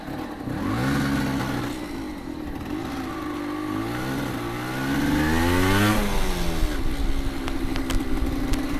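A 125cc motorcycle rides along a forest road by a pond, its engine revving up and down through gear changes, rising and falling in pitch close to the listener, with steady wind noise and no voices.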